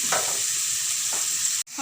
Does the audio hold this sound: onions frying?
yes